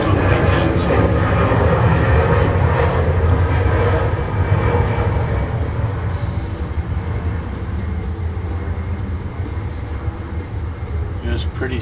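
Airplanes taking off nearby produce a loud, continuous broadband roar that swells early and gradually eases, a sustained rumble filling the whole stretch with no voices.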